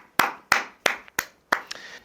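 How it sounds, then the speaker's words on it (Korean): Five sharp hand claps in a slightly uneven rhythm, close and distinct, each with a short fading tail, plus a softer clap near the end. "진짜 박수 쳐드리고 싶습니다."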